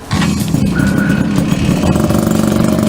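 A moped engine runs steadily and loudly up close, a buzzing, chugging drone with a slight rhythmic pulse throughout the three seconds.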